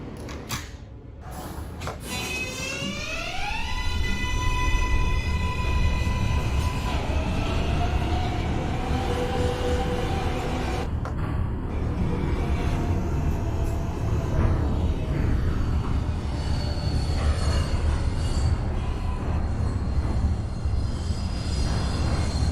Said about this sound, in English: This is a Brooklyn-bound J. Skip stop train.